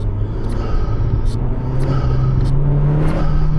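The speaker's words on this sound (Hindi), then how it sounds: "यहाँ पे इसका टर्बो का साउंड सुना आप" Renault A110 sports car driving with a steady engine drone and a rising whirring tone, loud and close, with short airy chirps of turbo release recurring every half second or so.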